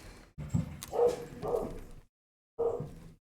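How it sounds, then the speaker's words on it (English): A dog barks in a few sharp bursts indoors, three loud yaps close together followed by a pause and one more bark, with no talking over them. "Oh, my dog might go ballistic."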